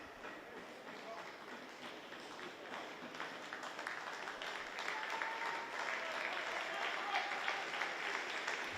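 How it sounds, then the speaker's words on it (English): Applause from spectators at the Select Car Leasing Stadium during a Reading U21 vs Arsenal U21 football match, a moderate, distant patter of clapping that builds gradually over several seconds. "Applause from those of an Arsenal persuasion, I'm sure"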